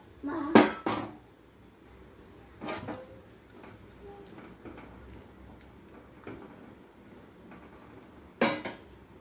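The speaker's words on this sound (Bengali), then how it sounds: "এবার এই ভাজা পটল আর আলুটা দিয়ে দেবো।" Fried pointed gourd and potato pieces go into a wok holding spice paste, a little water and turmeric, marked by a few sharp, close metallic clanks of spoon on pan separated by quiet stretches.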